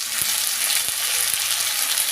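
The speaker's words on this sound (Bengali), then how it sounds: "দিয়ে ভালো করে আমি পেঁয়াজ ভাজার সঙ্গে মিশিয়ে নিচ্ছি" A constant loud frying sizzle of onions fills the clip, with a few soft knocks of a spoon stirring in the pan.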